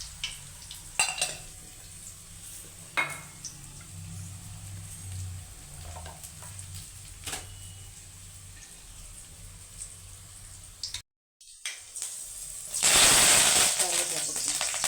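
Fenugreek seeds fry in hot oil, a soft steady sizzle with occasional stirring taps, broken by a short silence and then a louder burst of hissing near the end.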